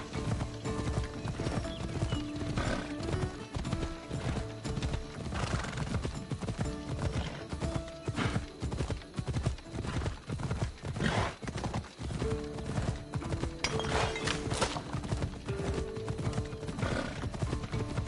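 A horse gallops in the video game Assassin's Creed Odyssey, with rapid, steady hoofbeats close by and occasional neighs and whinnies over a busy game soundscape.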